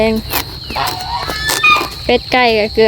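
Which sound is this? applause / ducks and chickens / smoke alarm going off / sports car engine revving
ducks and chickens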